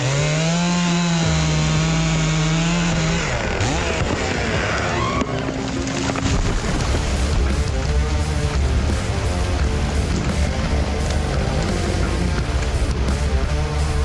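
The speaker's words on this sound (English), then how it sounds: "We're going to bore cut them and use the flares to release them." A chainsaw bore-cutting into dangerous trees in timber, its engine revving and then holding a loud, steady, close whine as the bar cuts through wood, with a continuous rough buzz throughout.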